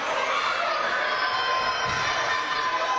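Capacity crowd at a live wrestling show, a steady wash of cheering and shouting voices filling the arena at moderate loudness, continuous without pause.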